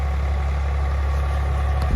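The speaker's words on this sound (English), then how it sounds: "Is it tractor?" A tractor engine idles steadily on a Portugal homestead, a constant low rumble that holds even and close for the whole stretch with no voices over it.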